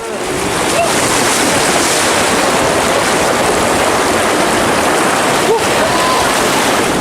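A lahar mudflow from Mount Semeru rushes loudly down the Regoyo river channel at Jugosari, Candipuro, Lumajang, a steady broadband roar of churning water and debris, continuous and close throughout.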